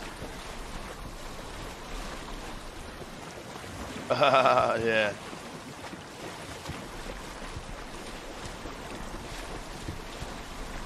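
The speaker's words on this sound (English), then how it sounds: "it's gonna handle these waves" A ship sails through rough ocean waves in a video game, with a constant roar of wind and surf, a brief louder rush of spray midway, and a short spoken word.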